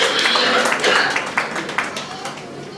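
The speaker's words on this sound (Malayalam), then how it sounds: "നല്ലൊരു കൈയടി കൊടുക്കാം അദ്ദേഹത്തിന് വേണ്ടിയിട്ട്" An audience at a world record award event claps for a guest invited onto the stage, a brief burst of close, dense applause that tapers off.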